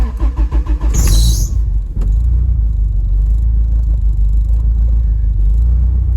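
A car engine running on E85 fuel cold-starts with a quick rhythmic starter crank, catches with a sharp rev, then settles into a loud, close, steady idle rumble.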